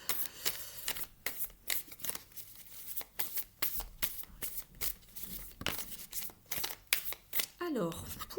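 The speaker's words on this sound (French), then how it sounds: "On mélange bien le jeu, puisque les cartes sont..." Thick tarot cards being shuffled by hand, a steady run of quick papery riffles and slaps close up, with brief pauses between bursts and a soft rustle at the end.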